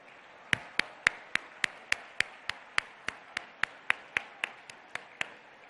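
Audience clapping to welcome Chief Minister Revanth Reddy at a Telangana government Iftar dinner: a steady run of about twenty crisp, evenly spaced claps, close and distinct, with no voices.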